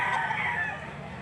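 A Gray Melsin line chicken, seven months old, calls at a Lipa City, Batangas livestock auction market, a close, loud, sustained crowing cry lasting about a second.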